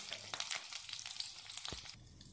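Green chilies and curry leaves dropped into hot tempering oil for an Indian tadka, giving a close, steady crackling sizzle with bright popping spatters that eases slightly at the end.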